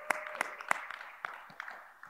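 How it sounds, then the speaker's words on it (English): Scattered, faint hand claps from a small group at a signing ceremony for a university athletics partnership, a few sharp individual claps spread over two seconds. "all right, let's clap."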